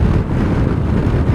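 Strong wind roars across the microphone while riding a Sym Joyride 300 scooter on a motorway, a loud, dense, unbroken rumble through the whole short stretch.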